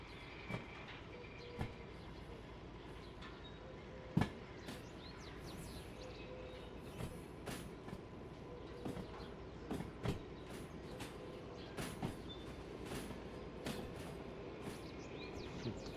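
Derail Valley simulator train being coupled and moved, with faint scattered clanks and knocks of cars joining over a quiet rolling rumble, and light bird calls in the background.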